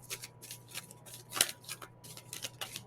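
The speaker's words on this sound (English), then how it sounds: "while I'm shuffling these cards" A deck of cards is shuffled by hand, giving a run of quick crisp riffling bursts with short gaps and one sharper snap near the middle, heard up close with no talk.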